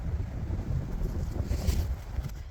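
Cold wind in America buffets the microphone in low gusty rumbles for a couple of seconds, with no voices.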